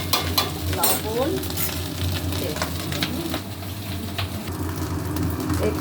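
Food is stirred in a pan with repeated scraping and clinking strokes over a continuous sizzle, up close, with a low steady hum underneath.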